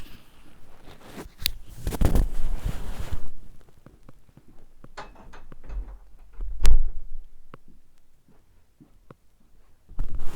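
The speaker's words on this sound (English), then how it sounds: "I'm just going to close that door." A door pulled shut indoors, a few nearby thumps and rattles followed by quieter handling noises and a firmer knock near the end, with no talking.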